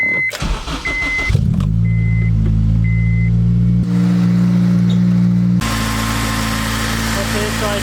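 A car's engine idles and revs loudly up close, with a few short beeps early on, then a steady droning hum with a change in tone as it gets under way; a voice speaks over it at times.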